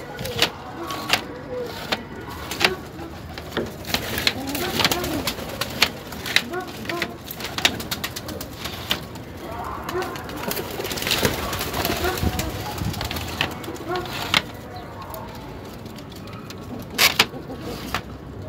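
Domestic pigeons in a loft give soft, repeated coos and rustling wing flaps, with scattered clicks and knocks, while someone talks throughout over a low background hum.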